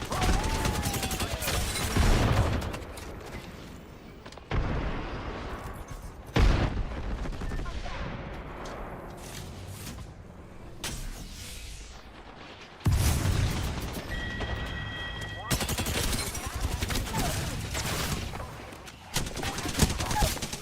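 Rapid gunfire bursts from Apex Legends solo ranked play with Lifeline, loud volleys and booming shots crackling in uneven clusters with brief lulls between exchanges across the whole stretch.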